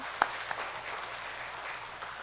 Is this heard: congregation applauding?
yes